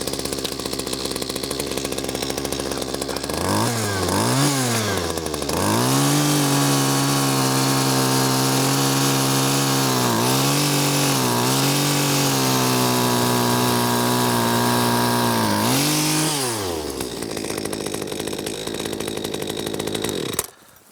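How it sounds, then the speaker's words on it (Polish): Motorized ice auger boring a hole through lake ice in Sweden, a loud two-stroke engine revving up and holding a high drone for about a dozen seconds before winding down and cutting off. "Służy ona do robienia dziur w lodzie."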